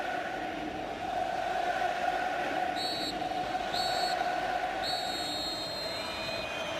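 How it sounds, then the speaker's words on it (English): The referee blows the final whistle at a Barcelona football match in three sharp, shrill bursts, the last one longest, over the steady roar of a large stadium crowd. "Well, the final whistle, and Ernesto Valverde, 5 for Barcelona"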